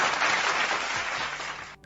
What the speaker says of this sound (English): Applaud, applaud, applaud.